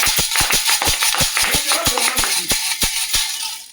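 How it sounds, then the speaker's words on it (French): Congregation in a church clapping, sharp handclaps landing in a steady, near rhythm over a dense background of voices and room noise. "Est-ce qu'on peut applaudir ce Dieu-là?"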